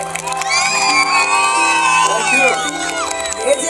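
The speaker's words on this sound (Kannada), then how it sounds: "ಬರ್ಲಿ ಒಂದು ಚಪ್ಪಾಳೆ ನಮ್ಮ ಎಲ್ಲ ಕಲಾವಿದರಿಗೆ." A large crowd at a live music night in Kollegala cheers, whoops and shouts for the performers, a dense, loud roar of many voices with high excited yells throughout.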